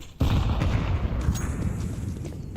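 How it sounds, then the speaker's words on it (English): A grenade goes off in the tactical shooter CS2 with one sudden loud blast, and a rough rumbling tail follows it and slowly fades. No voices are heard. "Throwing a grenade."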